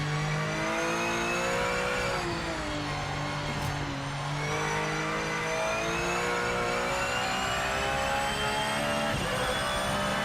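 Porsche race car engine in the Project Motor Racing video game, loud and continuous, revving up and down through gear changes with rising and falling tones, steady and close with no talk.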